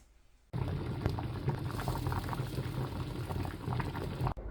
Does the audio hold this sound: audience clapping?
no